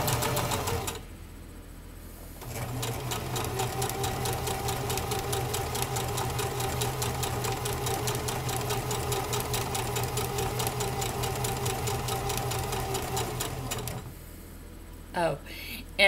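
A sewing machine stitches in a fast, steady mechanical whir with a rapid rhythmic needle clatter, running continuously for most of the stretch after a short pause at the start, then stopping near the end.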